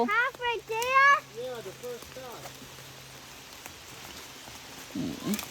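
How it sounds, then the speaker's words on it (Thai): Rain falls in the backyard woods behind a house in America, a soft, steady hiss of drops on leaves that continues after someone briefly speaks at the start. "ฝนตก"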